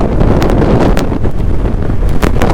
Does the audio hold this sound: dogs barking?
no